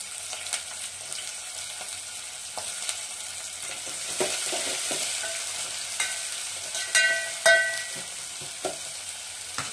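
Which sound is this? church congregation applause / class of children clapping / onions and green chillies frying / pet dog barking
onions and green chillies frying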